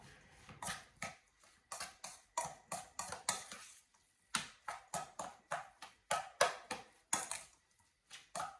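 A spoon mixing seasoned ingredients with salt and pepper in a bowl for a quick three-ingredient recipe, giving repeated scraping, clinking strokes in an irregular rhythm with short pauses, close and fairly quiet, no talking.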